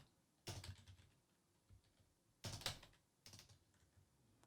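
Keystrokes on a computer keyboard, quiet close clicking in three short bursts of rapid taps separated by brief pauses.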